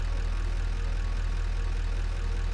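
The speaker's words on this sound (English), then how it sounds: "I like the diesel sound of the engine" Diesel vehicle engine in the Satisfactory video game, a low, steady throbbing idle with an even pulsing rumble that holds constant and close throughout, with no talk.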